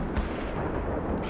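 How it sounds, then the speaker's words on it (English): A tank fires a HEAT round in a World in Conflict battle, a single heavy boom with a dense, rumbling low-end blast that fills the short moment. "Firing the heat round."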